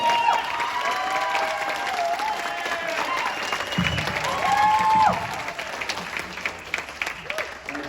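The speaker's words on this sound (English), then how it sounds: "Let's give them one more round of applause." An audience applauds after a jazz band concert, with a steady wash of clapping and some scattered cheers. The applause thins toward the end.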